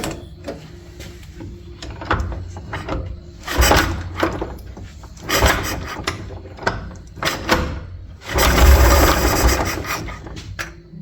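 Vintage 1932 Austin 7 Saloon engine cranking in repeated bursts, with the starter churning in short rhythmic pulses and a louder, fuller surge near the end as it catches, recorded close up.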